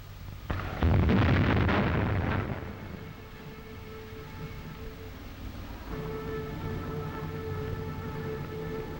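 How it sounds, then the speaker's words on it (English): A single deep, rumbling cannon shot in Paris rolls out over a couple of seconds, then fades into a steady outdoor hum with faint distant tones. "A cannon shot announced the hour of 11"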